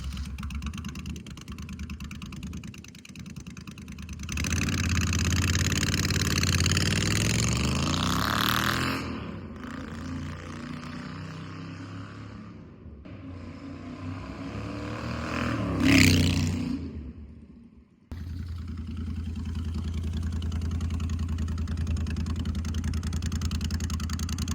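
Moto Guzzi V50 cafe racer motorcycle fitted with off-length headers, its engine revving and accelerating loudly with popping exhaust, surging and easing in several bursts before settling into a steady drone.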